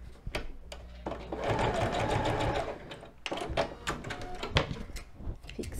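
A sewing machine stitches an open seam in thick fabric for a cloth doll's shoe, running in close, loud bursts with short pauses and clicks between them.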